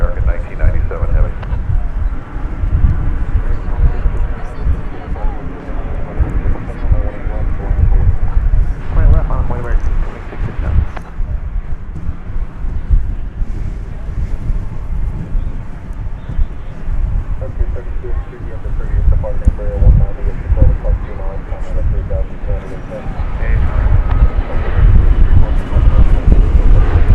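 An American Airlines heavy jet on its takeoff roll from runway 18 left at DFW Airport, a long, loud, rumbling engine roar with gusty wind buffeting throughout and a voice talking over it.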